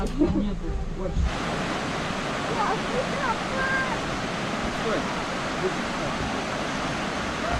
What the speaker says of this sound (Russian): Ну этот водопад чуть-чуть большой, чем Üstübe.